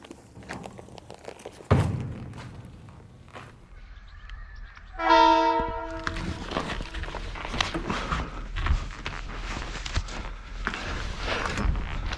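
A cargo train in Turkey sounds a loud, steady multi-tone horn, then rumbles past with rattling wagons and clatter that continues to the end, heard close with no talking.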